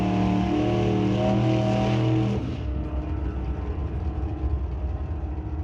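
Two drag cars, a Nova wagon and a 1973 Chevy Nova, idle with a loud steady engine drone on the line at an NHRA meet at Mission Raceway Park, then launch into a harsh, rough roar that stays loud and near.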